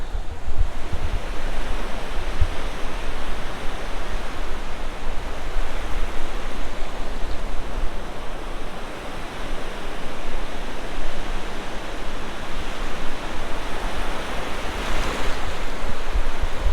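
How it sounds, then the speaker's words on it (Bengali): Big sea waves crash continuously onto the shore at Bashbaria sea beach in Sitakundu, a loud, steady roar of surf with wind buffeting the microphone throughout. "যে বিশাল স্রোত দেখতে পাচ্ছেন আছড়ে পড়তেছে কিনারার দিকে"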